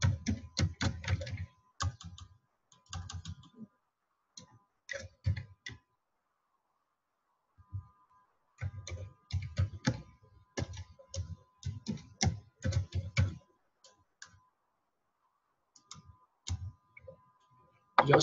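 Typing an address on a computer keyboard: bursts of quick, close key clicks separated by short pauses, sounding alone in a quiet room.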